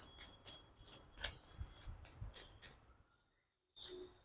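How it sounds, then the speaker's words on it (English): Tarot cards riffling and slapping together in quick bursts of shuffling, close and fairly quiet, before a brief silence and a soft rustle as the deck settles. "I have to reshuffle. Lots of cards are falling."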